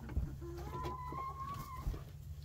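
Brahma mix roosters make soft clucking and short drawn-out calls in a pen on a snowy day, faint and a little distant over a low steady background hum, with a couple of dull thumps.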